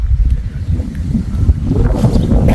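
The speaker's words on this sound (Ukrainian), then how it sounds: "Ой, вітер." Gusty wind buffets the microphone in a steady low rumble that swells and eases, with no voices.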